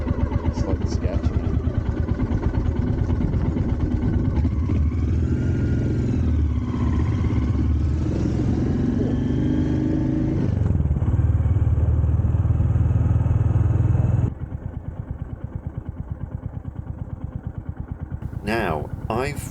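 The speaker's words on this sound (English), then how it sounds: "They're both 2023 Royal Enfields and they're both 350s, so the engines and running gear are the same" Two 2023 Royal Enfield 350 motorcycles riding out of a sandy car park, their engines thumping steadily and loudly up close with road and wind noise, easing off to a lower idle-like rumble near the end.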